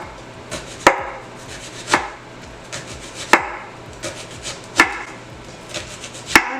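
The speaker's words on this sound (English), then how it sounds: "you want to cut the onions in slices as well" A knife slices onions on a cutting board for a tostadas de tinga recipe, with sharp, evenly spaced chops about once a second landing close and clear, nothing else in the way and no talking.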